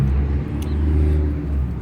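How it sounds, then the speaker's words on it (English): A company pickup truck towing a trailer pulls in, a steady low engine rumble and road noise close by with no talking over it. "Pulling in with the company truck and trailer."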